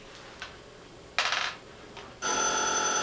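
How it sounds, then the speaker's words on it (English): A telephone rings in a home kitchen: a brief trill and a clatter, then a loud sustained electronic ring rises and keeps going with no talking. "Are your hands clean enough to answer that phone?"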